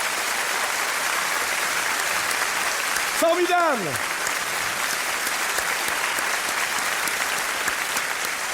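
Sustained applause from a comedy show audience fills the whole stretch at an even, dense level, with a voice briefly speaking over it partway through.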